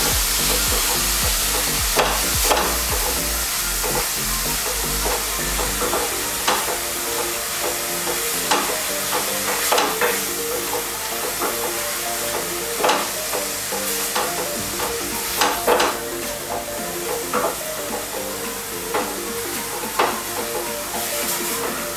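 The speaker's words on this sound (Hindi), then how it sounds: "धीमी आंच पर इसको कांदे को पका लेंगे पूरा" Onions for a Jodhpur-style pyaj kachori filling cook slowly over a low flame, giving a steady close sizzle with repeated spoon-stirring scrapes and clanks, and no talking.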